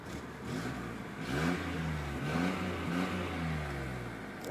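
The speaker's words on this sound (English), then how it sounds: "There's your idling." A 1991 Geo Metro convertible's engine idles steadily nearby, a low, even rumble with slight rises in pitch, no voices present.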